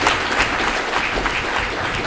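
An audience at a celebrity roast for a mayoral candidate in Jackson, Mississippi claps loudly and continuously, a thick wash of many hands with a few louder individual claps on top.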